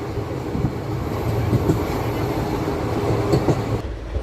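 Steady low rumble of an express train rolling along rails between Visakhapatnam and Duvvada at night, with faint rhythmic clatter and occasional squeaks, continuous throughout with no voices.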